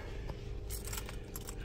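A bunch of car keys for a 2019 Nissan Rogue Sport jangles briefly and softly close by, with a few light metallic clinks as they are pulled from a pocket.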